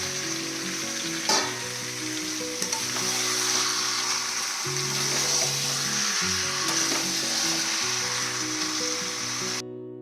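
Chicken kosha frying in a pan gives a loud, continuous close sizzle with occasional stirring scrapes, steady throughout and cutting off abruptly at the end, no speech.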